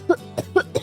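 Four short, sharp coughs from a person, close and dry, evenly spaced in quick succession with no talk.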